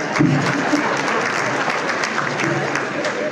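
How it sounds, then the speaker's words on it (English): A crowd applauding steadily throughout at a community leaders breakfast, a dense wash of clapping with a voice or two faintly underneath. "You can applaud"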